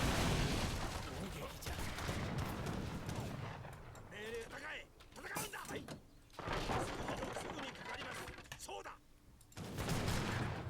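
Bombard cannons firing in the video game Age of Empires III, with repeated booming blasts amid battle clatter and gunfire that sounds faint and distant. Bursts come in waves separated by brief quieter gaps.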